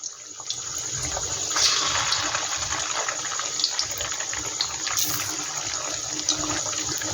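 Jackfruit pakoras deep-frying in hot oil, a steady hissing, bubbling crackle that holds close and even throughout, with brief louder surges and no voices.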